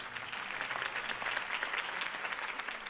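Sustained crowd applause fills the scene after Harvey Dent's campaign speech in the Batman Telltale video game, a dense steady clatter of many hands with no voices over it.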